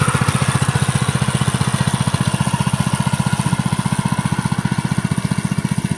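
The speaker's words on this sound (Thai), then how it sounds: "คลิปนี้ก็เป็นการดูคุณตาของเราไถนาด้วยรถไถเล็กนะคะ" A small walking tractor plowing a rice field, its single-cylinder engine chugging in a fast, steady, loud rhythm close by, with light mechanical clatter and no talk.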